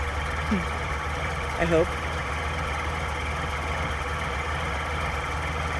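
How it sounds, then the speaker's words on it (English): A 1956 Ford tractor engine idles steadily with a low, even rumble, fairly faint and continuous, while a person briefly speaks over it. "Just great to hear that engine."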